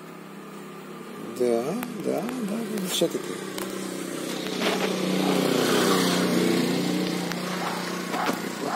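A motorcycle rides around a rural farmyard, its engine swelling and fading at mid distance beneath a voice talking over it.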